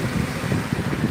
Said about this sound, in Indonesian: gemuruh ombak yang sedang menjilat-jilat pantai